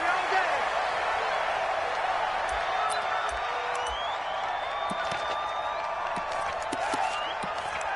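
Steady stadium crowd roar from a football video game on PS4, Tampa Bay Buccaneers against Minnesota Vikings, a continuous dense murmur with scattered faint whoops and claps, moderately loud throughout.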